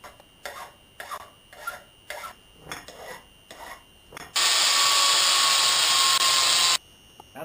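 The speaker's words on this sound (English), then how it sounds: "What am I going to split that with? Probably an angle grinder," An angle grinder cuts into a metal tube for a land yacht build, a loud steady high-pitched whine lasting a couple of seconds after a run of rhythmic filing or rubbing strokes on the metal.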